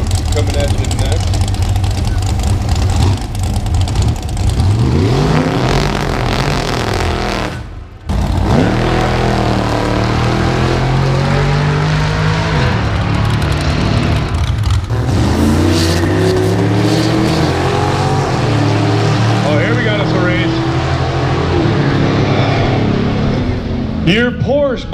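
Coupes roll racing side by side at Powercruise USA, engines loudly revving and accelerating through rising gear pulls, with a brief dropout midway and an announcer talking over the roar throughout.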